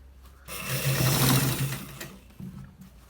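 A sewing machine stitches a shirt collar onto the neckline in one short, close burst of rapid whirring that starts abruptly, peaks, then tapers off.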